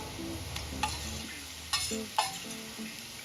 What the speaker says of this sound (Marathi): आता आपल्याला ही पेस्ट छान परतून घ्यायची आहे